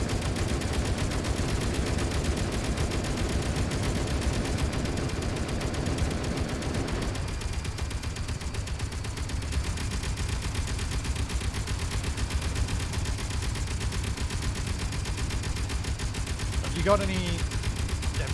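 Gunfire from a video game craft's still-working guns, a rapid dense rattle filling the first seven seconds, then thinning to a quieter steady background, with voices talking over it.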